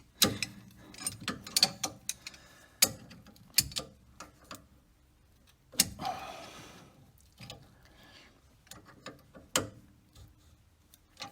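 Ratchet wrench clicking on a Jeep Cherokee track bar bushing during reinstallation, irregular bursts of sharp mechanical ticks close by, some quick runs and pauses, no talking.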